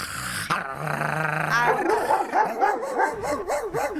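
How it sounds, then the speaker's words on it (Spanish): A dog barks and growls loudly and close up in a rapid, continuous run of yips and snarls that keeps going throughout. "ya viene el perro más viejo."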